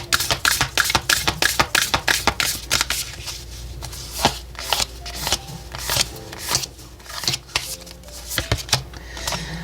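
Oracle cards are shuffled close up in a dense run of crisp riffling slaps and flicks, repeated rapidly throughout with brief pauses.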